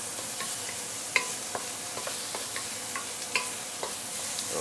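Roast duck bones, very bony pieces, being stir-fried in a pan for a Chinese New Year chai buey dish: a steady sizzle with scattered clicks and scrapes from stirring, fairly quiet and continuous with no voices.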